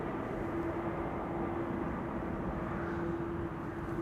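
Airplane engines at Amsterdam Schiphol Airport, a steady distant roar with a sustained droning tone held evenly for the whole stretch, no voices.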